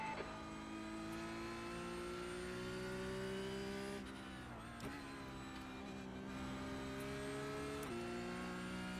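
Touring race car engines from the iRacing sim at Watkins Glen drone loudly and steadily, with TCR and Porsche machines nearby; sharp upshifts break the rising pitch a few times as cars run close together.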